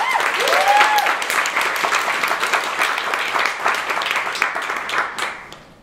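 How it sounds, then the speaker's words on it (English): An audience at an IoT hackathon breaks into sustained applause for a speaker, a dense wash of many hands clapping that fades out at the end. "Can I get a big round of applause?"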